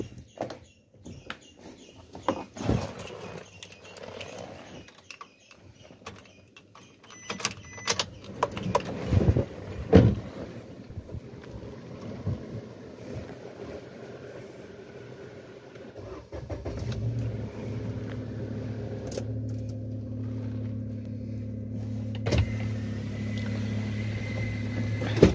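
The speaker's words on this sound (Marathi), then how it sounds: "गाडीला कोल्ड स्टार्ट करूया." A car engine cold-starts after a stretch of shuffling and handling noises, then settles into a steady, close idle hum that runs to the end, with no talk.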